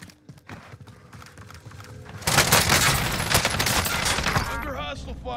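Heavy gunfire in Call of Duty, a quiet start giving way around the middle to loud, sustained rapid bursts of shots with clatter, continuing to the end.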